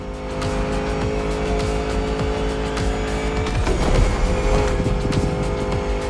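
Ford Mustang Shelby GT500 driving in The Crew Motorfest video game, a steady loud engine roar with tire squeal that swells slightly toward the middle, with no talking.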